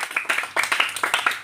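Loud hand clapping from a group at a colour-matching challenge game, a fast run of sharp, close claps in uneven bursts lasting about a second and a half.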